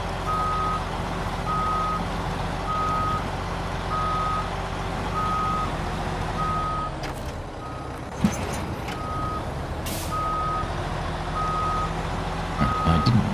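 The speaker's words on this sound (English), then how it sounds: "Reverse the trailer, I think." A truck towing a trailer reverses in the SnowRunner video game, its backup alarm beeping in a steady evenly spaced rhythm over a continuous low engine drone, with a few brief clunks near the end.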